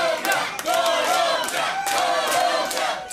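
A large crowd of Copa América football fans cheers and chants loudly and continuously, with rising shouts and sustained vocal roars filling the space.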